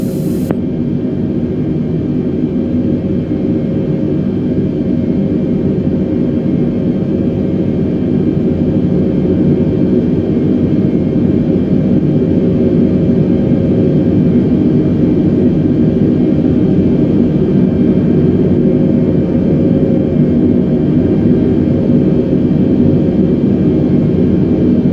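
Airbus airliner engines hum in a steady, unbroken cabin drone during descent in Flight Simulator 2020, a dense low-pitched whoosh that stays constant and close from start to finish.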